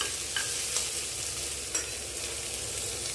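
Onions with ginger sizzling in hot oil for a South Indian tempering, a steady close frying hiss with a few light stirring scrapes.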